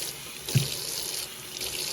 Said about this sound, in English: I just put a little bit of hot water, however much you want